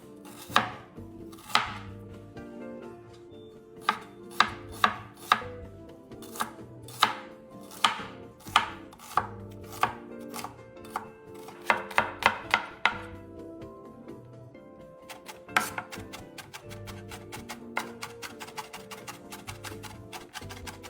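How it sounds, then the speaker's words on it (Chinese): Crisp knife strikes on a cutting board as an onion is chopped, irregular at first, then a fast steady run of close, sharp chops. "洋葱1个，约50克重，切细后再稍微剁碎。"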